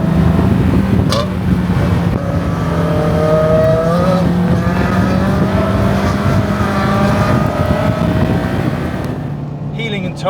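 A stock Renault Clio 172 Cup engine drones loudly and steadily while driving, the pitch rising and falling slightly with throttle changes, with road and wind noise underneath.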